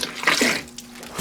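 Water from a Thetford Porta Potti 155 camping toilet, fitted with a new pump bellows, flushes down into the bowl in one short, splashy rush that quickly fades.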